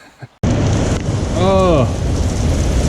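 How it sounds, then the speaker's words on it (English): Rain begins falling outdoors around a fishing boat, a loud broad hiss of drops and wind buffeting close to the microphone, with a brief tonal whine rising and falling partway through. "it's starting to rain, so I gotta go inside"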